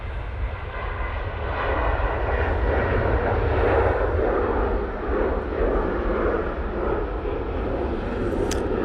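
Jet2 passenger jet taking off at Manchester Airport in low visibility, a loud, steady engine roar that stays strong and even throughout from a middle distance.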